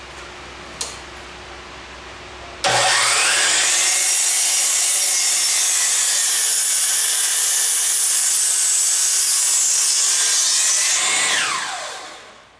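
A power saw rips lengthwise through a wooden board to produce a 2x4, the blade's loud steady whine running unbroken for about eight seconds before winding down.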